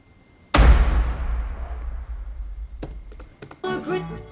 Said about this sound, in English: Ford Ranger Slam.